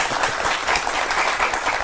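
A lecture audience claps together in a brief, fairly loud burst of many hands, with an even, rippling texture and no voices over it.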